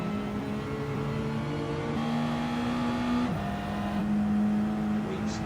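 Race cars in a video-game race running nose to tail, a continuous droning engine whine with steady pitch shifts as the cars lift and accelerate, loud and unbroken for the whole stretch.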